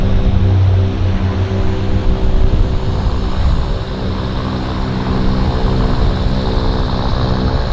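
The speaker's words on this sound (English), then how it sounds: "Medevac King Air." A medevac King Air turboprop at Vancouver Airport holds a loud, steady propeller drone with a low hum, easing slightly partway through, heard alone.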